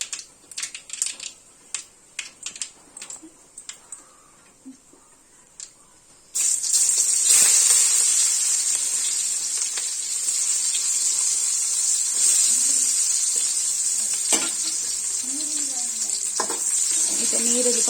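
Mustard seeds and tempering spices spluttering and popping in hot oil for a chana dal dish, starting with scattered crackles and then rising into a loud, steady, close sizzle.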